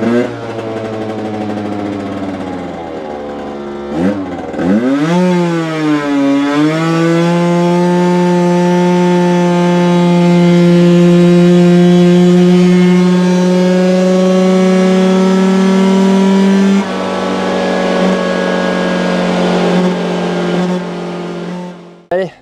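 A scooter engine fitted with a Malossi over-range variator runs on a dyno bench, idling briefly, then revving up with rising pitch into a loud sustained whine that drops off near the end before cutting out.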